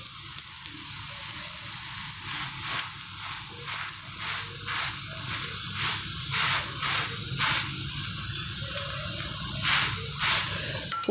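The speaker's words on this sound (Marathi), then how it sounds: "असं या छिद्रामध्ये तेल सोडायचं, म्हणजे धपाटं छान भाजतं." Oil drizzled into the holes of a dhapate flatbread made with fresh green sorghum sizzles steadily on a hot pan, a continuous close frying hiss with brief crackling bursts as the oil hits, no talking.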